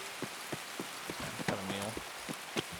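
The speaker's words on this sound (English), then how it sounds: "The rain's fucking loud." Steady rain in a video game, a dense hiss pattering on surfaces throughout, with intermittent footstep-like thuds and a brief voice sound in the middle.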